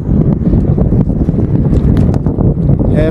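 Steady wind roaring across the microphone throughout a bike ride, a loud continuous rumbling buffet with gusty swells and no voices.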